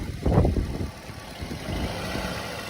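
An auctioned car's engine runs close by as it is put in gear and moved forward, a brief low idle rumble with a louder surge at the start.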